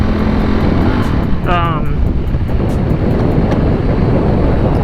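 A Ducati Streetfighter motorcycle ridden on a hot day, its engine drone buried under heavy, steady wind rush across the microphone, with a brief whining pass partway through.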